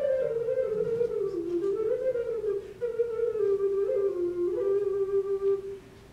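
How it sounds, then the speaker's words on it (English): An alto gemshorn made from cow's horn plays a solo melody with a soft, breathy, hollow flute-like tone, notes gliding smoothly in a steady line close to the listener with no talking. "This is an alto Gemshorn."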